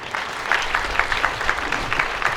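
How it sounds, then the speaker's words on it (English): An audience at a 9/11 remembrance ceremony in New Bedford claps steadily in a modest, fairly close burst of applause with no voices over it. "How about a nice round of applause for Samantha Johnson?"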